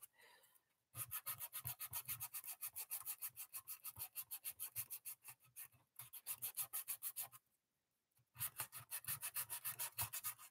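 Sandpaper rubs back and forth on a piece being shaped by hand, a steady, close, rhythmic rasping of quick strokes in three bursts separated by short pauses, with no talking.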